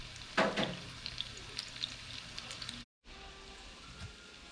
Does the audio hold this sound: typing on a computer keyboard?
no